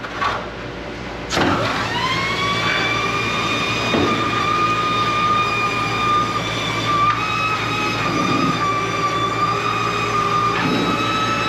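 A pressure washer fitted with a 360-degree nozzle sprays inside the frame rails of an Amphicar, a loud steady high-pitched whine and hiss that starts abruptly and holds with slight wavering, close up.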